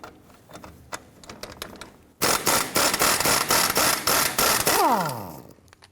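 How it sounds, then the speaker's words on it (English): Ratchet with an 18mm socket removing the lower shock absorber nut on a 1993-1997 Ford Ranger. Light clicks lead into a loud, fast run of ratcheting close by, which ends with a brief rising squeal. "Using an 18mm socket, we're going to go ahead and remove this lower nut on the shock."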